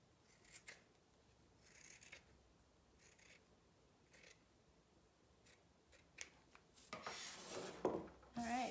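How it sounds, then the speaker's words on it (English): Scissors snip through a paper craft piece in several short, separate cuts, quiet and close, followed near the end by louder rustling and handling of the paper. "and so now we can cut that out."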